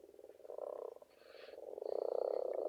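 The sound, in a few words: many frogs croaking in a distant marshy valley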